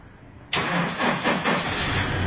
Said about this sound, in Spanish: Ahí tenemos el vehículo en marcha.